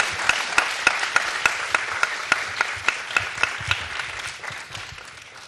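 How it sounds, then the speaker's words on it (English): Audience applause at a roundtable keynote on dissent in China, a steady patter of many hands clapping with sharp individual claps standing out, sustained for several seconds before gradually thinning and fading. "And if we could give another round of applause for Li Ting Yu."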